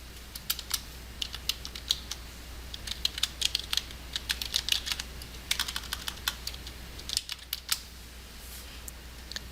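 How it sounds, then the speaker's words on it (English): Search terms typed on a computer keyboard, a quiet run of light, quick key clicks in uneven bursts over a low steady hum, fairly close, with no one speaking. "type your search terms into the middle of the search screen"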